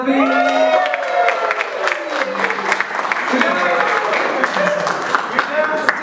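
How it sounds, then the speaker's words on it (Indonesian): Applause and cheering from a church congregation during a worship service, a busy crowd wash of clapping with whoops and chatter, voices talking over it throughout. "Tepuk tangan buat David."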